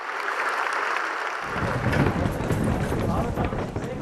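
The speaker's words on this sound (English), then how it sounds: "To huge applause from the room." Delegates in the conference hall at the COP29 climate talks break into loud, sustained applause over the agreed deal, with a broadcast voice speaking over the start of the clapping.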